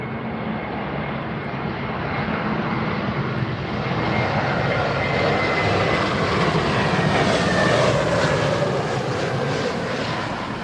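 Aircraft arriving on runway 27R at London Heathrow Airport, a broad jet engine roar that swells steadily as the plane approaches and passes, loud and continuous with no voices.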